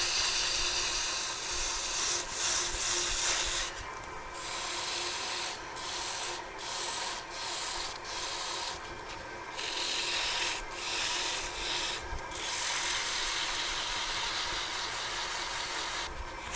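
Continuous abrasive rasping from sandpaper held against a wooden pen blank spinning on a lathe, steady and close with rhythmic pulses as the paper shifts, under the machine's hum.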